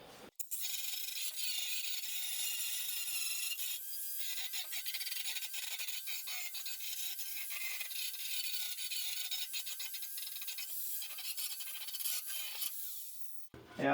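A hand file drawn steadily across a welded steel Ford Escort MK1 wing to round off a sharp edge, giving a continuous close, hissing rasp with brief pauses in the strokes.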